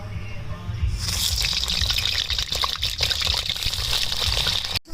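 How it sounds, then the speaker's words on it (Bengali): Salted pointed gourd pieces frying in hot mustard oil, a loud, steady hiss and crackle that surges up after the first second and continues unbroken at close range. "আমি নুন মাখানো পটলগুলোকে আবার ভেজে নেব।"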